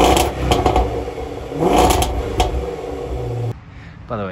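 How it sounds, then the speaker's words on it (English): Exhaust of a 2020 Range Rover Velar SVAutobiography revving, a loud broadband engine roar with several rising pushes, easing off near the end as the sound thins out. "Now I put the exhaust clip on earlier,"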